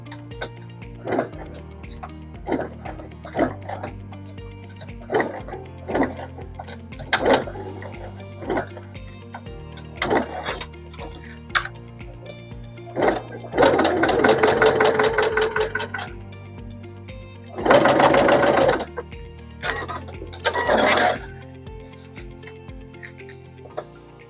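Sewing machine stitching piping onto fabric in short bursts, with a few longer runs separated by clicks and pauses as the presser foot is lifted and the fabric pivoted, while someone talks through most of it.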